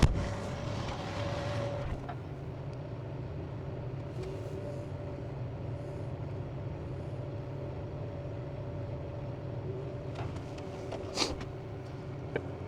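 A farm vehicle with broken steering drives to the shop during winter maintenance, giving a steady low engine rumble with a faint mechanical whine and a sharp clank near the end.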